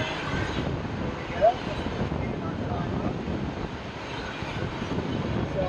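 A small airplane engine drones steadily up close as the plane accelerates just above the ground after takeoff, mixed with heavy wind rush buffeting the microphone throughout.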